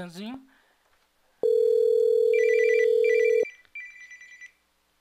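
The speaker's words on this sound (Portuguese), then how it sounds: "Eu vou ligar para o Alisson, no caso para o Pedro" An Android phone running the CSipSimple softphone gives a long steady ringing tone, then repeated short electronic ring bursts, close and loud, after a brief voice.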